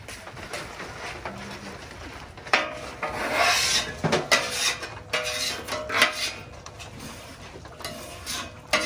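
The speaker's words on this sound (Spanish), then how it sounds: "Limpia eso con la espátula para poner las tortillas." Metal spatula scraping and rubbing across a taco griddle while preparing tortillas, a steady rasping scrape with uneven strokes and louder bursts, close by with no talk.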